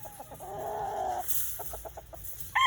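A Bulik gamefowl rooster at a game farm gives a run of clucks and a short drawn-out call, close and fairly loud, with a brief sharper cry at the end over faint background noise.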